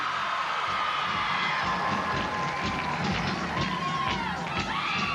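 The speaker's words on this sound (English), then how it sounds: "And the crowd just loves this." Arena crowd at a 2000 Big 12 women's gymnastics championship floor routine, cheering and shouting in a dense, continuous roar with scattered whoops, moderately loud and sustained.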